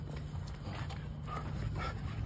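A stock dog barks and yips in a few quick bursts over a steady low hum, fairly faint and distant.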